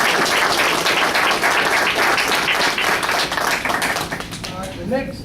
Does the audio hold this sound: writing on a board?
no